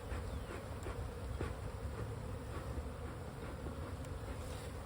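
Honeybees in an opened hive, the cover freshly pried off and smoke puffed under it, give a steady low droning hum that stays at an even level throughout, with no voices.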